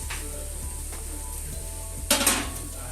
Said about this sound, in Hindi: अब हमने इसमें गोश्त ऐड करना है, गोश्त डाल के फिर उसे हमें भूनना है अच्छी तरीके से ब्राउन करके